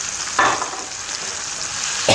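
Sardines go into a pan of string beans and eggplant, which answers with a loud close sizzle of frying, plus two brief surges of stirring, and no voices.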